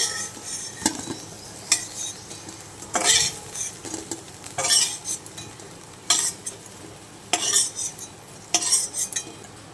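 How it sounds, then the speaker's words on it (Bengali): Fried okra being lifted with a metal utensil from a wok into a bowl, a series of sharp scraping clinks and taps at irregular intervals over a faint background. "এবার আমি এই ভেন্ডিটাকে তুলে নিচ্ছি, তুলে একটা পাত্রের মধ্যে রেখে দিচ্ছি।"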